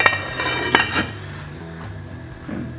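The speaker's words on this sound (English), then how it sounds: "I'm going to pop the lid on." A metal lid set onto a pot of simmering pea and ham soup makes a few close clinks and clatters, then the sound drops to a quiet low bubbling.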